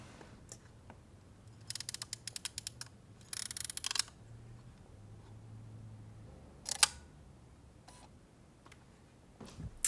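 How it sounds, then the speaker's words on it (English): A Pentax 17 half-frame film camera being torn down makes a string of quick mechanical clicks and ratchets from shutter release and winding, close and crisp in short clusters over a quiet room. "So here is the shutter release."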